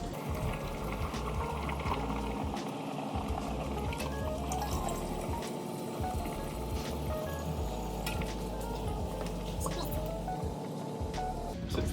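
Water runs steadily into a homebrew wine container, a continuous gurgling fill with faint bubbling, fairly quiet and close.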